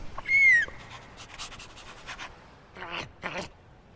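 A dog named Waffles in Minecraft: Story Mode pants in quick bursts, gives a short high whimper early on, then two louder breathy pants near the end, close and alone.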